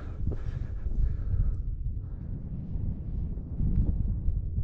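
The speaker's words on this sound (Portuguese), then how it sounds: "Vento soprando forte aqui." Strong wind blowing across an open Bolivian desert, a steady low rumbling roar buffeting the microphone with gusts rising and falling, continuous and close with no talk.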